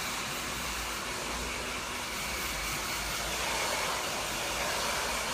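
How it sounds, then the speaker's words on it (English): A steady, loud rushing whoosh of a hair dryer blowing continuously, close by, drying hair during a haircut, with no talking. "I'm just going to use the hairdryer just to speed it up a little bit"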